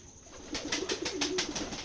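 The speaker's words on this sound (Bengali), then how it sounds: "এটা আমাদের ফার্ম হাউস কবুতরের খামার" Soft, repeated pigeon coos in short bursts, several birds close by at a pigeon farm, with a steady background hiss and no talking.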